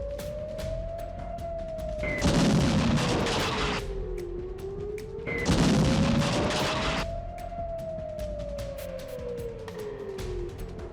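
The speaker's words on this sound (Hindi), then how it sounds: "अंधेरी रात और आसमान से बरसते बम।" Night bombardment in the Russia–Ukraine war: a wailing air-raid siren rises and falls throughout, while two long roaring bursts of explosions and rumbling blasts swell over it, loud and fairly near, with no talking.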